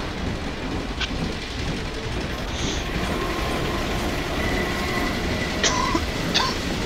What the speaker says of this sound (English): Oh, look, it's one of their trains.